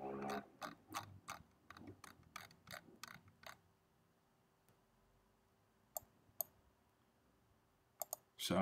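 Computer mouse clicks, a quick run of crisp close clicks at first, then a quiet pause broken by a few isolated clicks and a final pair.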